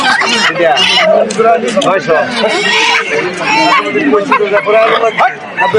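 Chickens cluck and squawk close by amid a noisy poultry market at Haluaghat bazaar, Bangladesh, with several people talking over the birds throughout.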